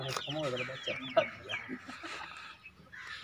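Chickens of various fancy breeds cluck on a farm, with several sharp close clucks and squawks in quick succession while a voice talks over and between them.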